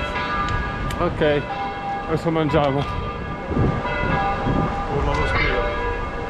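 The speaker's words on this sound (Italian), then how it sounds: "suonano le campane" Church bells ring out with bright, sustained tones layered over busy outdoor noise in Valle d'Aosta, while people talk nearby throughout.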